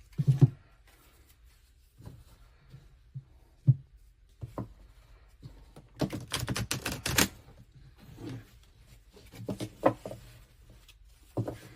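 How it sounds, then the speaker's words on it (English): Close, irregular clicks and taps, then a dense burst of riffling flutter as thick cards are shuffled, followed by scattered softer clicks. "I'm going to shuffle these cards"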